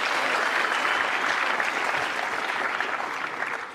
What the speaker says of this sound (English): So let's clap it up for those two guys.